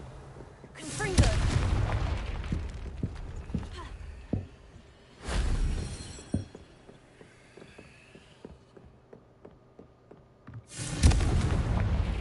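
Three heavy booming blasts from the Confringo blasting curse in Hogwarts Legacy, each a loud burst with a rumbling tail, spaced several seconds apart, with light clicks and faint effects in between.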